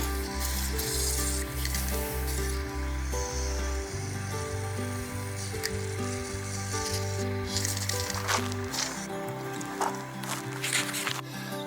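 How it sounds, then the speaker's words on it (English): A WD-40 aerosol can hisses in short bursts of spray, close by, into the casing of a 2006 Ford Connect Visteon alternator, over steady background music. "Spray it in there between the casing."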